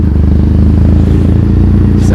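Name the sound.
motorcycle exhaust on ride through Tokyo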